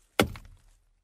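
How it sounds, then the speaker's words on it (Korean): A single heavy axe blow bites into a tree trunk, struck as a sound effect in a Korean folktale about a tiger climbing, one sharp close thunk with a short woody decay and no voices. "호랑이는 도끼를 찾아 쿵"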